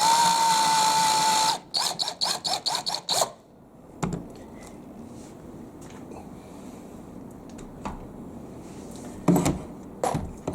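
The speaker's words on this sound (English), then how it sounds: "now that I've got my pilot hole, I'm going to go in there with a little quick countersink." A drill on a countersink bit bores into a pilot hole in wood. A steady whir is followed by a run of quick trigger bursts, then it stops, leaving quiet handling clicks and scrapes.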